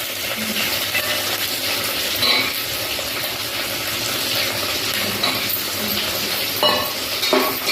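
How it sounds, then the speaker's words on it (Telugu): Lentils frying in a pan give a steady, close hiss and crackle that holds evenly throughout, with faint scraping stirs now and then and no one talking. "కొద్దిగా ఫ్రై చేసుకుందాం"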